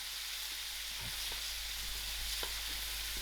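Calabash (loki) and dried shrimp sizzle steadily in a pot while being stirred, a continuous close frying hiss with occasional soft scraping knocks of the spoon and no talking.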